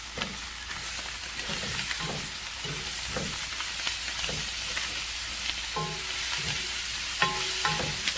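Spinach and meat frying in a pan as chopped green coriander is stirred in, with a steady sizzle and repeated scraping, clattering stirring strokes throughout, close and fairly loud, no voices.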